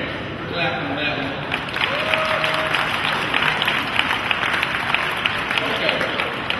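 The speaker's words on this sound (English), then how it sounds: "Clap on that one." A crowd of children claps together during a talk about business, brisk scattered applause that rises and holds at a lively level, with some voices and movement mixed in.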